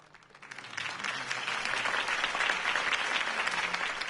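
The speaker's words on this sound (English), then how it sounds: "could have heard that applause" A video game crowd claps and cheers together, swelling within the first half second and then holding a steady, dense roar of applause, in Batman: The Telltale Series.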